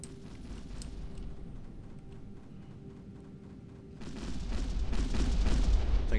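Gunfire and booming impacts from space combat in the video game Kinetic Void, a continuous rumbling barrage that grows louder and denser midway, with no talk over it.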